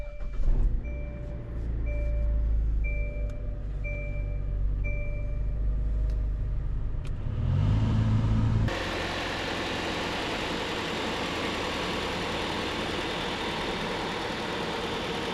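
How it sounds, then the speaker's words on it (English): A wrecked car's engine idles nearby with a rhythmic beeping in the first half, then a shift in the running sound as the AC compressor engages and a steady broadband whoosh takes over. "I'm gonna start it and see if that compressor even kicks on"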